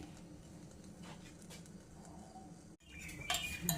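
Lid set onto a pan of oothappam cooking on medium flame, soft metallic handling and clinks followed by a brief silence, then a louder clatter and rising sizzle as the cover settles, close by.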